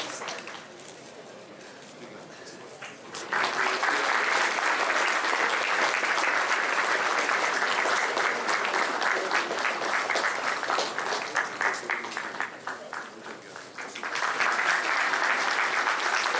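Audience at the opening ceremony of an academic congress clapping, quiet room murmur first, then a sudden burst of loud sustained applause that dips briefly before swelling again.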